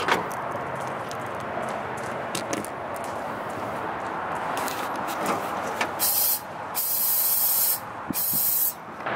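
Compressed air from a compressor hisses steadily through a boost leak test setup on a turbo intake. The broad, continuous rush grows louder and brighter near the end, with brief breaks in the flow.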